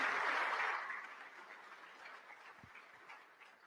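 Audience applause for a speaker at a talk, a burst of hand clapping that starts fairly strong and fades to a scattered, faint patter over a few seconds.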